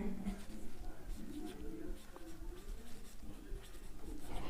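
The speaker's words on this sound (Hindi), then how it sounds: "अब हम लिखते हैं राणा प्रताप" Pen writing by hand on paper or a board during a Hindi-to-English translation lesson, a continuous faint scratching under low room noise and occasional soft speech.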